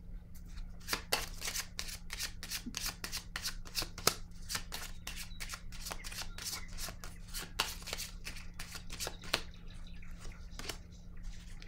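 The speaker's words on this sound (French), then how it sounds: "Je vais déposer une autre carte ici." Tarot cards are handled and laid onto a table in a quick series of crisp, papery flicks and taps, quiet and close, with no voices present.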